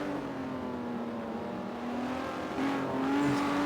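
A Porsche GT race car engine drones steadily in a racing video game, holding a sustained note that climbs slightly and then shifts as the car is pushed sideways, with faint tire noise alongside.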